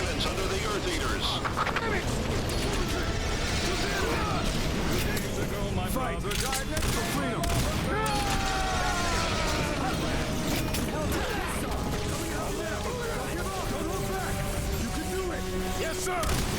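Cannon gunfire in the video game Earth Defense Force 2025 on Xbox, a dense, continuous barrage of blasts and mechanical clatter filling the scene, with voices talking over the battle.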